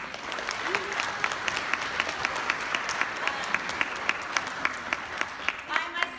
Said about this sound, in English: So I'd like you to give yourselves a round of applause